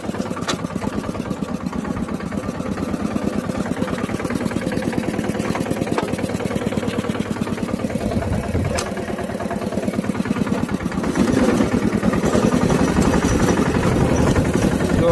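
Close, loud mini tractor engine chugging with a rapid, steady beat while driving a rotavator in a cotton field, a couple of sharp clicks along the way and the engine growing louder toward the end.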